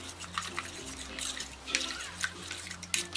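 Strained jaggery syrup is poured into rice batter for Kerala halwa appam and stirred in, giving quiet, close liquid splashing and wet swishing with small irregular bursts.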